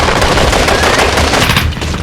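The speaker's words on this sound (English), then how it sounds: "A furious gun battle ensues." Sustained automatic gunfire rattles loudly and densely in an airport gun battle during the Munich Olympic massacre, continuous bursts that blend into a harsh roar.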